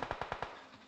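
Automatic gunfire in the mobile battle royale game PUBG Mobile: a quick burst of five sharp shots at an even pace, then a fading tail, fairly quiet and without talk.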